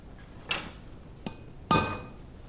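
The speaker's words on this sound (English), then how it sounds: "I'm going to take a little punch and try and get a hole started here" Three separate sharp metallic strikes of a hammer tapping a center punch into metal on a rusty ratchet, the last the loudest and ringing briefly, in a quiet room.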